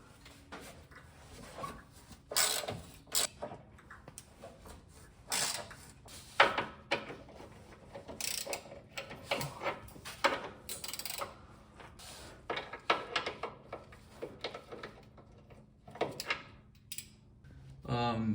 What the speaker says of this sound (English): we're going to start by removing these 4 bolts which hold up this rock guard